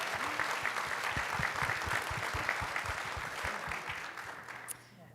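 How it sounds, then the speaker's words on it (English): An audience at a community center event about latkes applauds steadily, a dense patter of clapping that holds fairly level and then fades out near the end. "let's give these guys a round of applause"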